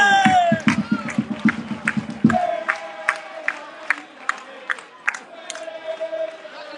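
Football fans at a Sicilian Promozione match between Casteltermini and Gemini cheer Stassi's goal with rhythmic clapping and chant-like shouts that repeat steadily, with a voice faintly audible among them.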